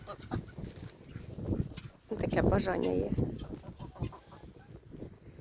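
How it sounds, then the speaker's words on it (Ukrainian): Domestic runner ducks and Muscovy ducks quack and honk nearby in a loud, raspy flurry while someone talks over them in a windy outdoor setting. "мої качки сидять он. Бігунки в одну сторону, шипуни в другій."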